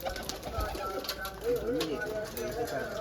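Pigeons coo in soft, rounded repeated calls at close range, a few low warbling phrases rising and falling while someone talks over them amid light background noise.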